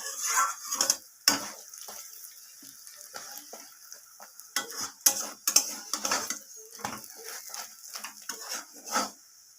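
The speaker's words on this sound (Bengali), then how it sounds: "এরপর আমি সাদা তেল দিয়ে পরোটাটাকে একদম মুচমুচে করে দু পিঠ ভেজে নেব" Potato-stuffed paratha frying in white oil in a pan, with intermittent sizzling bursts and clinks of a spatula against metal, quiet gaps between.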